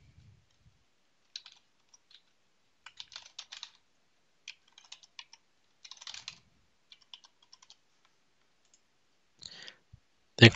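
Login details are typed on a computer keyboard in short irregular bursts of close, crisp key clicks separated by quiet pauses, ending with a louder cluster of keystrokes.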